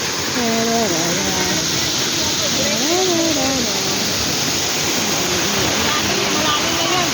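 A waterfall in Hong Kong, swollen after a black rainstorm, roars loudly and steadily with a dense, unbroken rushing hiss, while a voice talks over it.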